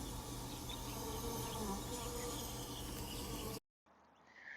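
Bees hum steadily close by, working around a mahogany tree, as a continuous buzzing drone that cuts off abruptly near the end.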